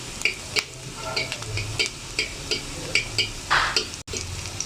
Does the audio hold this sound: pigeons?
no